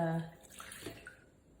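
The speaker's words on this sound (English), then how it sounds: "When it's ready to pour, you just loosen the lid a little bit and then pour it out." Cold brew coffee pours from a Takeya Tritan pitcher with the lid loosened, a faint, brief liquid trickle lasting about a second, just after a voice trails off.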